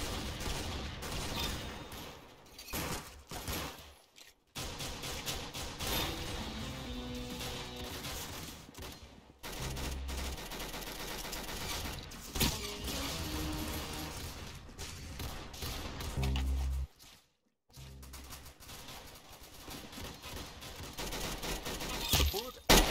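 Gunfire from the Roblox shooter game Arsenal, with repeated bursts of shots crackling through a busy game mix alongside speech for most of the stretch, broken by a few brief gaps of silence.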